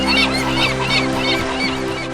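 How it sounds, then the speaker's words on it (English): Birds in an animated children's story honk and call repeatedly in a goose-like chorus, steady and fairly loud over a constant background tone, with no talk. "looking at the birds flying in the sky"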